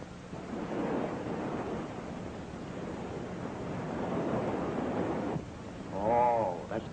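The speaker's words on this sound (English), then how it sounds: "Oh, that's the sea." Low, rolling whooshes of sea waves surging and receding, heard from inside an echoing tunnel running near the shoreline, with a brief voice near the end.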